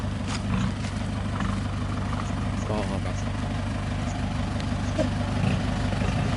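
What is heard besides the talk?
tractor and dump truck engines idling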